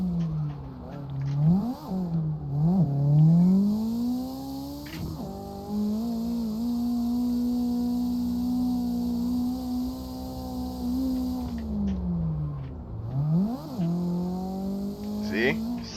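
A car engine in the racing game CarX Drift Online revs up and down, climbing in pitch, holding a long steady drone at high revs, then dropping and climbing again, loud and close.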